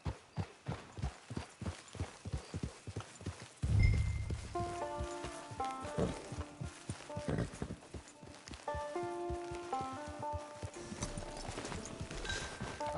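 Horse hooves clop in a steady rhythmic gait during riding in a PS4 video game, fairly close and loud, over a background of game music with sustained tones.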